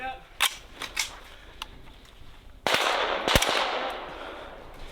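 Rapid gunfire rings out during a large military invasion exercise in Europe's far north, with sharp scattered shots followed by a dense, loud burst of fire at close range, and voices shouting amid it.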